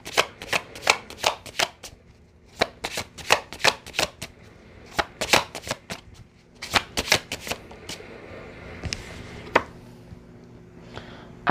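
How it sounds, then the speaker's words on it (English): Tarot cards being shuffled and drawn, with quick crisp riffling bursts and taps repeating in uneven clusters, close and clear with little else around. "Let's get two more cards."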